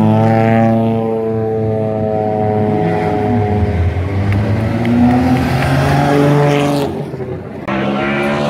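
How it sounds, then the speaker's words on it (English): An old NASCAR stock car races against classic cars, the engines roaring loud and near with rising and falling revs as they accelerate and pass, followed by a short dip and then a renewed drone. "You had an old NASCAR versus some other old classics."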